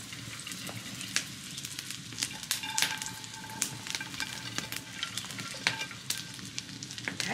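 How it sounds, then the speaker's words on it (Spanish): Corn kernels frying in a pan for esquites at a ranch kitchen, a continuous close sizzle with sharp crackles and pops and occasional stirring scrapes, no talk. "Aquí vamos con el elote, que se dé una sancochadita para poder agregar lo demás."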